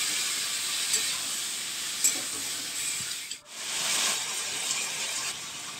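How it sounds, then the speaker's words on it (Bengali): Marinated mutton fries with onions in a pan while being stirred, giving a steady close sizzling hiss that cuts out for a moment before resuming. "ভালো করে পেঁয়াজটার সাথে মাংসটা নেড়ে নিচ্ছি।"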